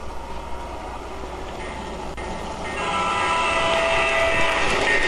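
Battery-powered model garden railroad locomotives run along outdoor track at Sun City Grand in Surprise, Arizona, giving a steady rolling rumble with light rail clatter that swells louder after the first few seconds and carries on with no talk.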